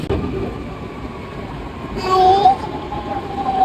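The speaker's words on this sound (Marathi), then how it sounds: "प्रॉपर एका मिनिटात ओके ट्रेन आली" A metro train rumbles in as it arrives, a steady mechanical roar with a brief high squeal of brakes midway and faint voices nearby.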